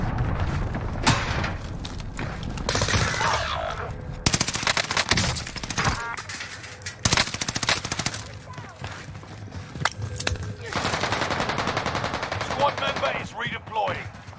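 Rapid bursts of submachine-gun fire from the H4 Blixen (Carl Gustaf M/45) SMG in a Warzone Rebirth Island match, with sharp repeated volleys, impacts and game effects, and voices talking over it.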